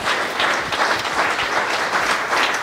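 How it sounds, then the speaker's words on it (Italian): A live audience breaks into sustained, dense applause at an event with cyclist Alessandro Ballan, loud and steady from start to finish. "Facciamo un grande applauso,"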